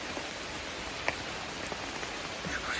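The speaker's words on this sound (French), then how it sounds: "Il pleut, de toute façon il a plu toute la journée" Steady rain falling during a long-distance bicycle ride along the French Atlantic coast, a continuous hiss with scattered drop ticks, no voices.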